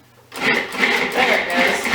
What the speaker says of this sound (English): Just using the pulse on the food processor.